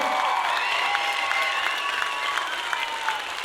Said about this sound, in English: everybody, round of applause for Mackenzie